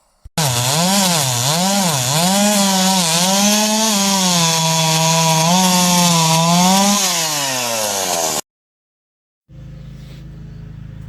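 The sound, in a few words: Ryobi 36V battery chainsaw cutting wood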